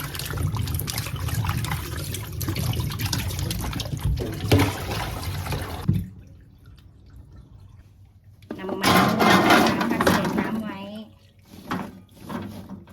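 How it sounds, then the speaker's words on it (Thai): Peeled purple sweet potatoes are washed by hand in water, with close sloshing and trickling, then a quiet pause, then another spell of splashing and dribbling. "นำมันม่วงที่เราปอกเปลือก มาล้างทำความสะอาดออกให้หมดให้เกลี้ยงดีเลยนะคะ"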